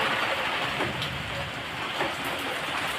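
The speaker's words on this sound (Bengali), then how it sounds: "যেমন ঝড় তেমন বৃষ্টি" A steady roar of heavy storm rain fills the air, rising and dipping slightly as gusts of wind pass, with no one speaking.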